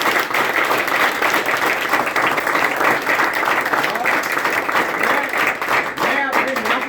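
Loud, dense audience applause for the parents at a school gathering, steady sustained clapping throughout with no talk over it.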